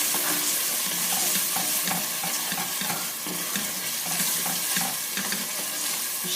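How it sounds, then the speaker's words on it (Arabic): Onion, pepper and oil sizzle steadily in a pan with tomato sauce as a spoon stirs through it, with a continuous frying hiss and soft scraping strokes, close and alone. "نقلب الصلصة كده مع البصل والفلفل والزيت"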